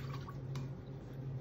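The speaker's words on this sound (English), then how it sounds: "we're gonna start with the pot and we're gonna add the water" Water is poured into a cooking pot as the first step of pâte à choux, with a few soft drips and splashes over a steady low hum, faint and close.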